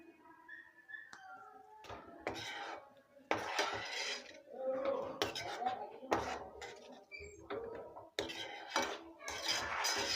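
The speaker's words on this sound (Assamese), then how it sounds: "এতিয়া মই এটা বাউলত এইখিনি কাঢ়ি ল'ম" A spoon scrapes and clinks against a metal pan and bowl as Assamese-style potato dum (aloo dum) is served, a series of irregular clattering knocks and taps, close and moderately loud, with short pauses between scoops.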